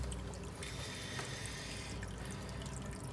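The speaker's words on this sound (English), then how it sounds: "Just drop the mother plant back in the water to keep it nice and hydrated." Water trickling and splashing softly as a java fern mother plant is set back into a container of water, a faint, steady wash of liquid with no talking.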